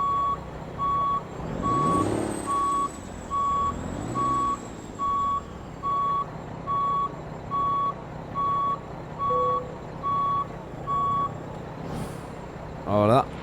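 Regular reversing beeps pulse steadily over a low truck engine drone in Euro Truck Simulator 2, with an old-model truck maneuvering, a few swelling engine revs early on and a brief hiss near the end.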